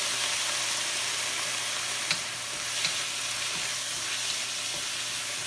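Soy sauce poured around the edge of a hot stir fry pan sizzles loudly and continuously, a dense hiss with a few small pops, close and steady throughout.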